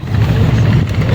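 A boat engine drones steadily as the boat departs across a wetland haor, a continuous mid-low motor hum heard from on board, with voices faintly present in the background.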